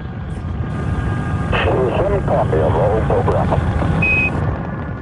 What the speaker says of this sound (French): Nous sommes à Cap Canaveral en Floride. La navette Columbia décolle.